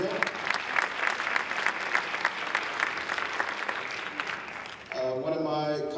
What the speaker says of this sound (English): we want to give him a round of applause as he represents Greenbelt